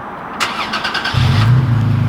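Remote start of a Toyota Tacoma TRD Pro pickup: a brief crank near the start, then the engine catches and settles into a steady, close, fairly loud idle.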